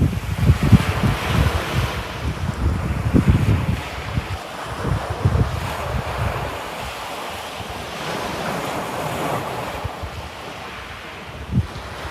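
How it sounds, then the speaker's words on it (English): Wind gusts buffet the microphone on the Felixstowe coast by Mannings rock bays, with waves washing in steadily underneath and loud rumbling bursts rising and falling throughout. "Get out of that wind."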